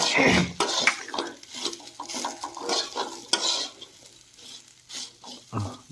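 Pumpkin sizzles in a pan as it fries red while a utensil stirs and scrapes against the metal in irregular strokes, close and fairly loud.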